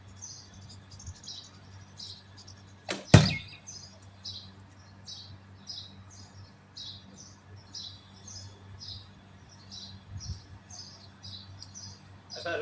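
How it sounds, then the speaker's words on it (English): A hummingbird chirps in rapid, regular high-pitched ticks through the whole stretch, faint against quiet outdoor background at an archery practice spot. There is one sharp thump near the start. "Ooh, a hummingbird."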